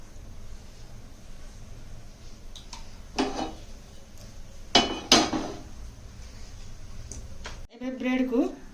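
A metal pan is set down on a stove in a home kitchen while making dahi toast, with a few distinct clanks and knocks over a low background hum.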